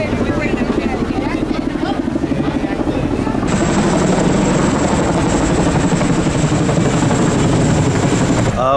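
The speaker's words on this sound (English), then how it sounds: "two giant military helicopters just flew overhead" Two giant military helicopters pass overhead near a theme park, a loud, steady, close rotor thump and engine roar that holds through the whole stretch with no letup.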